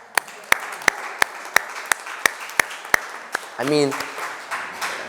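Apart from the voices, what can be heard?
congregation applause for the speaker's parents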